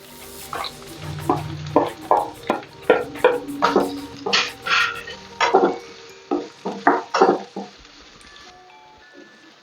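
Two onions stirred in a hot pan of sizzling oil, close and fairly loud, with a steady run of scraping spoon strokes over a continuous fry hiss.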